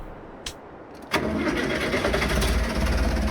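A tractor engine in a farming video game cranks briefly and then fires up into a steady, loud mid-pitched running drone that continues to the end, with no talk over it.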